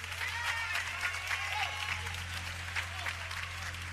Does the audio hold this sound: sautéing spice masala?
no